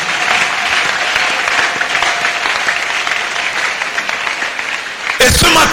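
A church congregation claps together in sustained, dense applause that holds steady throughout, ending in a brief louder burst.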